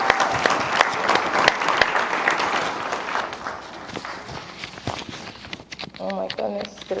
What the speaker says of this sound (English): can we just do another round of applause for all of our speakers